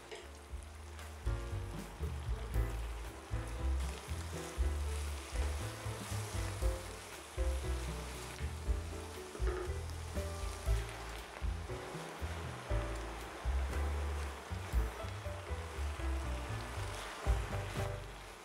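Spinach sautéing in a pan for gozleme filling: a steady, moderately loud sizzle and frying hiss runs throughout, with occasional stirring knocks and no talk.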